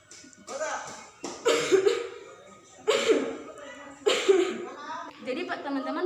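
Several separate coughs, each a sharp burst with a short tail, spaced a second or so apart at close range, performed to demonstrate proper cough and sneeze etiquette during COVID-19.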